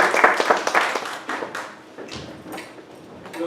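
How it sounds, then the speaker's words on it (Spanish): Applause from a small seminar audience: scattered hand claps that swell briefly, thin out, then pick up again, fairly close and uneven. "primero un aplauso a Memo por su tiempo"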